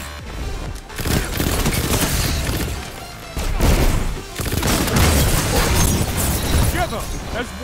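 Gunfire in a first-person shooter where players fire a few shots with sidearm pistols, heard as dense, loud volleys with booms layered over continuous game noise, while a player talks briefly.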